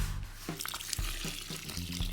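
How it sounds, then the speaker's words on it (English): A litre of water pours into a bucket of broken-up cement dust, a steady close splashing and gurgling that runs briefly without any talk. "pour it in a bucket and then add some water in"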